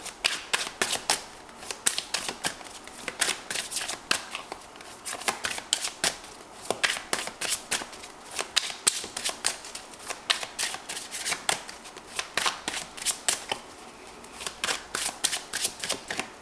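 A deck of tarot cards being shuffled by hand, a steady stream of crisp riffling flutters and soft slaps, close up and continuous with brief pauses, no talking.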